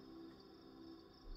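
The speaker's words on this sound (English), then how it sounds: "Somewhere in the forest, a tawny owl hoots" A tawny owl hoots in a night forest of birch trees, a soft, steady call heard alone over a calm background.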